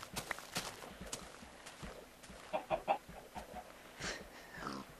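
Minecraft chickens cluck faintly in a few quick bursts, mixed with soft footstep-like thuds while exploring the overworld.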